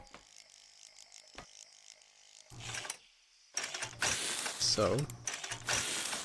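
Welding tool in the video game Scrap Mechanic, giving bursts of ratcheting, mechanical clicking and whirring with short gaps between them, under a brief spoken word.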